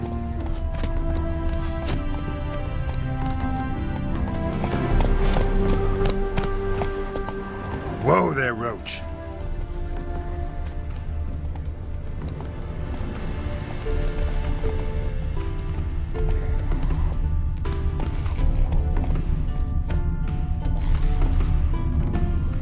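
Horse hooves clip-clop at a gallop in The Witcher 3: The Wild Hunt, a steady rhythmic beat under game music with a brief whinny midway.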